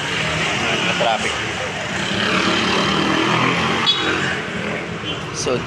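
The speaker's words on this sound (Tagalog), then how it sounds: "Traffic." Congested road traffic with cars and vehicles rumbling past at close range, forming a steady continuous drone of engines and tire noise, with people talking over it.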